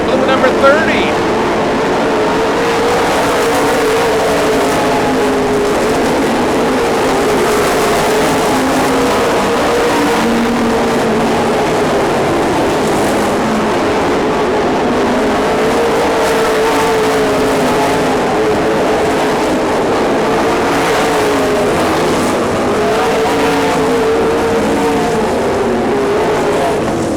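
Race cars roar around a track in a continuous loud engine drone with rising and falling revs, while an announcer calls the race over the public address the whole time.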